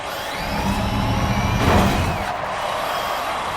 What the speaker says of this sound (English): So I guess the jet noise, the screech starts first, and then the jet noise is the motor spinning up even more.